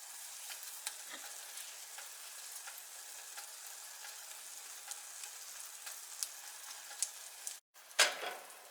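Egg and bacon fry together in a pan for a breakfast muffin, giving a steady, close crackling sizzle with small pops throughout and a brief break near the end before the sizzle resumes.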